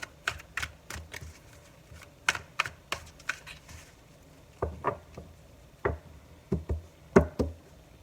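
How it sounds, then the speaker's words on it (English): Crisp, rapid flicks and slaps of stiff tarot cards being shuffled close by, in short bursts with brief pauses between them, no talking. "They're a little bit harder to shuffle, so bear with me."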